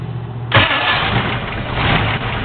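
A car engine cranks and catches abruptly, then settles into a steady, rough idle close by.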